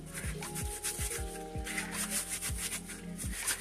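Scrubbing of sugar cane molasses-making equipment, a steady rhythmic rubbing with repeated strokes about every half second, close and moderately loud with no talking.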